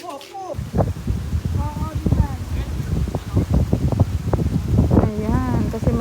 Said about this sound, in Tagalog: Dito kami sa Bulabog, ang hangin.